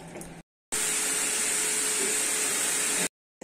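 Vacuum cleaner in a home running loud and steady with a high whine for over two seconds, starting and stopping abruptly.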